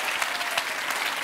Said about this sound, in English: round of applause there for Janice